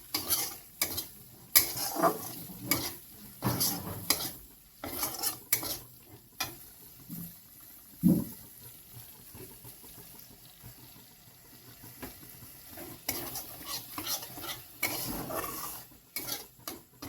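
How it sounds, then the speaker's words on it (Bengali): Potatoes and spices with salt, turmeric and Kashmiri chilli are stirred and fried in a pan, giving repeated scraping and clinking of a spoon on metal over a faint sizzle, close and quiet, in uneven bursts. "মশলা বেশ ভালোভাবে কষে নিতে"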